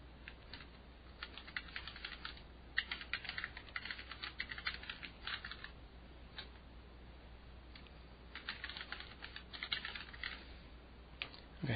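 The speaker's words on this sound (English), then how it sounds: "Okay, so we type in the message," A feedback message being typed on a computer keyboard, with quiet, rapid key clicks in two main bursts separated by a pause, recorded at a low level without talk.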